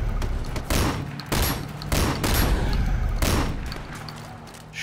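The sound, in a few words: shotgun gunfire in the video game Sleeping Dogs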